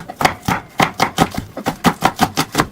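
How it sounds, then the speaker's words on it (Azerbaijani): A knife chops onion on a cutting board for a summer doğramac dish, making about a dozen crisp, evenly spaced strikes in a steady quick rhythm, close and alone. "Soğan da doğradım."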